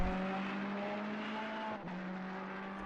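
Ferrari GT3 race car engine accelerating hard through two corners after a heavy braking zone at Zolder, a steady loud high-revving drone with a brief dip near the two-second mark before the revs climb again, no talk.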